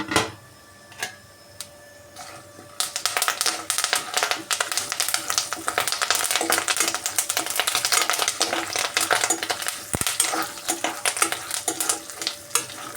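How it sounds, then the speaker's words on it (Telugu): Dried red chillies, curry leaves and cumin hit hot oil for a chutney: after a few quiet seconds a loud, close crackling sizzle erupts and keeps spitting and popping steadily. "ఎండుమిరపకాయలను కరివేపాకు జీలకర్ర కూడా వేసేసి ఫ్రై చేసేసుకుందామండి"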